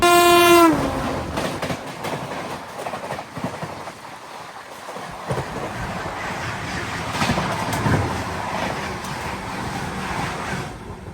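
A train horn blares briefly at the start, then the Tiruchirappalli to Sri Ganganagar Humsafar Express rumbles past with rhythmic clattering of wheels, loud and close throughout.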